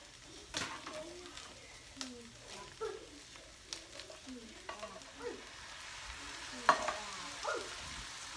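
Mixed peppers, corn, squash, zucchini and mushrooms fry with vegan meat in a pan, a soft steady sizzle with occasional stirring clatter, fairly quiet, while pigeon-like cooing sounds faintly in the background.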